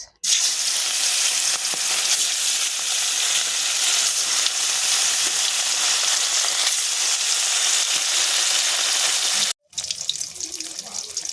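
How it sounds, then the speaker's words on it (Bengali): Katla fish frying in hot mustard oil in a pan, a loud, steady broadband sizzle that runs almost without a break, then cuts out briefly and returns slightly rougher near the end. "তেল গরম হয়ে গিয়েছে এখানে দিয়ে দেবো আমি মাছ"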